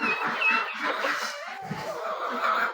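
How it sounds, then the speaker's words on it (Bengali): Native deshi chickens cluck and chatter on a farm, with short overlapping calls close by filling a few seconds. "এগুলো হচ্ছে আমাদের দেশি মুরগি"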